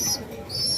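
A pigeon in a flyers loft gives a short, soft coo, faint and close, with a second bird note trailing near the end and no talking.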